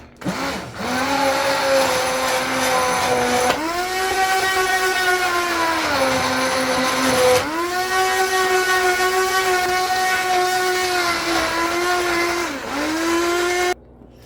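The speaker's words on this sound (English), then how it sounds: "We are like 8 minutes in now with this stick blender." A stick blender whirs steadily at close range mixing thickening stovetop liquid soap, its motor pitch sagging and rising as it works, with a brief pause partway through.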